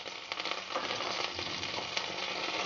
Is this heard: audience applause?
no